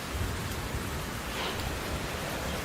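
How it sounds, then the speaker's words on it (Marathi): Heavy monsoon rain falling in Thane district, Maharashtra, a dense, steady hiss and patter that fills the scene without a break and with no voices. "ठाणे जिल्ह्याच्या विविध भागामध्ये सध्या मुसळधार पाऊस कोसळतोय।"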